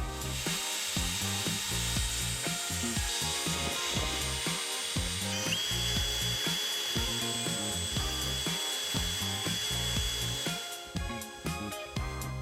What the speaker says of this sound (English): Hit that with the drill and yep, rust.